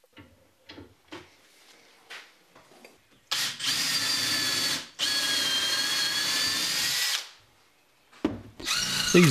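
Power drill driving 6-inch (150mm) wood screws into a biscuit-jointed wooden plinth joint for a CNC mill, with two sustained loud whirring bursts separated by a pause, preceded by scattered light knocks and handling clatter.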